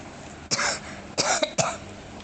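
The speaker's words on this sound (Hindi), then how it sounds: "बार बार खांसी आ रही है" A woman coughs three times in quick succession during a spoken devotional gathering, the coughs sharp, close and loud with short gaps between them.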